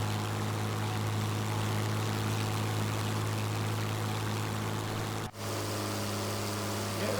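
A 1930s propeller aircraft drones steadily in flight at about 100 knots, heard from inside as a loud, continuous engine hum with a low steady tone and one brief dip.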